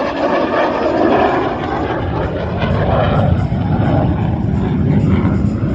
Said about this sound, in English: Culverson from Fighter Jets Incorporated demonstrating that minimum radius turn and full afterburner